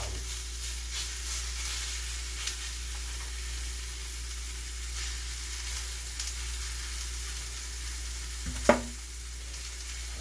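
Vegetables sizzling in a hot pan for a steak salad, a quiet steady hiss and crackle with a brief clank near the end, no talking.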